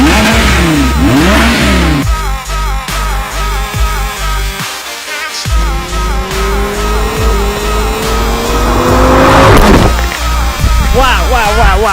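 An Audi R8 sports car engine revs and roars in a series of rising, accelerating pulls with a gear-change-like drop midway, loud and close, with rising whine sweeps and some background chatter.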